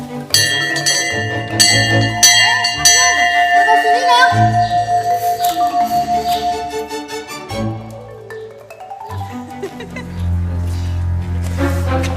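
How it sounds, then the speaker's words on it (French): An old hand-rung school bell, once used to call pupils to class, clangs in bright rhythmic strokes up close in a historic courtyard, with a voice talking between rings. "c'est vraiment la cloche que les maîtresses, les maîtres utilisaient autrefois pour appeler leurs élèves en classe"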